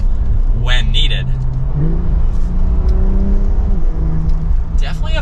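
A Porsche 911 Targa 4S engine pulls hard under acceleration, its pitch climbing steadily and then shifting, with some brief chatter over the steady roar.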